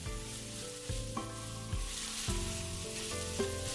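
Sliced beef with spring onion whites, ginger and star anise sizzles and fries steadily in a hot wok, with occasional clanks and scrapes of stirring; no talking.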